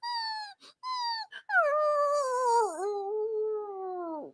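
A person imitates a dog whining in the back seat of a car, producing high, drawn-out nasal whimpers: a few short cries, then one long sliding whine, close and alone with no other talk.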